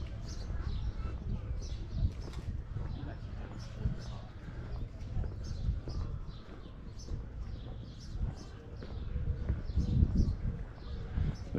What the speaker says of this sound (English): it is nice to walk and hear the birds singing